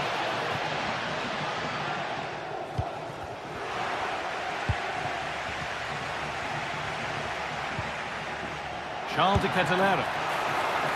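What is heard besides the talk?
stadium crowd cheering in a football video game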